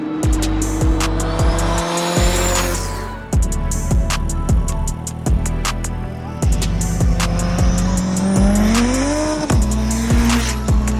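A 2003 Honda S2000 AP1 with a fully built F-series F24 engine on a K24 crank revs hard and loud, with rising and falling engine pitch, repeated gear shifts and occasional tire squeal, alone without talk.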